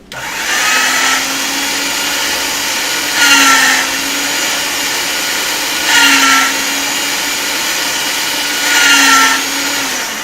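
A motorized pasta machine rolls polymer clay with a loud, continuous close whir, swelling at regular intervals as the sheet passes through the rollers.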